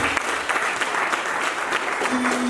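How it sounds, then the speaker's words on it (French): Steady audience applause at a professional insertion masterclass, a room of people clapping briskly and evenly for a few seconds, fairly close and alone without talk. "On l'applaudit."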